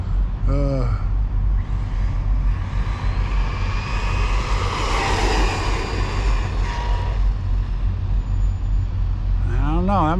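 Team Corally Syncro4 RC buggy with a 17-tooth pinion gear driving fast over dirt, a high whining motor that rises and falls as it passes by, with a voice talking at the start and end.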